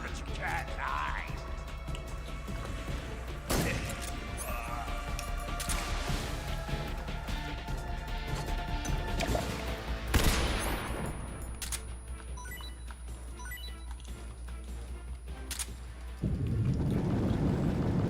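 Video game combat with a grenade blast and bursts of gunfire, sharp impacts and clattering mechanical clicks scattered over a busy, layered soundscape with a steady background hum.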